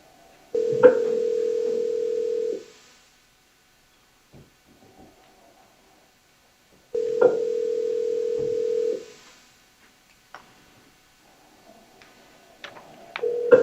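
A telephone call rings through toward voicemail: two long steady ringback tones separated by silence, clear and close, with faint clicks and the start of a third ring at the end.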